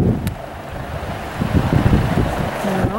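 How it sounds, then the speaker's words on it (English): Strong wind gusts buffet the microphone on a blustery afternoon in open desert mesa country near Bell Rock, a steady rushing roar that swells and dips with no voices. "A pretty windy afternoon here, as you can tell."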